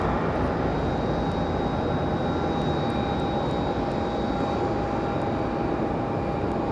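A Lufthansa Airbus A330 jet airliner rumbles steadily at Raleigh Durham airport, a broad continuous engine roar with a thin high whine, moderately distant and unbroken.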